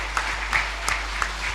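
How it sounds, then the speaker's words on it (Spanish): A church congregation applauding together, a steady wash of many hands clapping with a low hum underneath; moderately loud, no voices over it. "Dale un fuerte aplauso al que vive"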